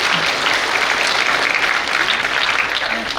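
Steady, dense applause from a large graduation-ceremony audience at a Korean high school, loud and continuous with no voices over it.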